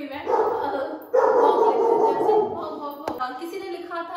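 A dog barks and yips repeatedly in a home, close and fairly loud, mixed with someone talking throughout.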